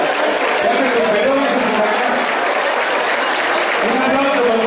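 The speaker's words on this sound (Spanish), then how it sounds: "¡Un aplauso, papá!" An audience claps loudly and continuously for a father during a school values-education production, a dense, unbroken burst of clapping with voices mixed in.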